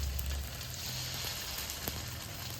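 Small snacks of purple sweet potato and cheese wrapped in lumpia skins fry in hot oil, a steady dense sizzle and crackle close up with no talking.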